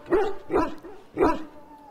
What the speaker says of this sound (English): A trained Mabari hound is as dangerous as any sword.